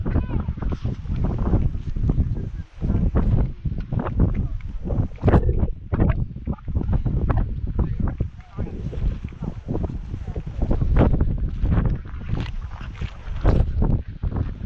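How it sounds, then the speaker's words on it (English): Strong wind gusting across the exposed hilltop ruins of Dunamase castle, a steady loud roar buffeting the microphone throughout with sharp gust peaks, close and continuous. "It does, it gets very windy here."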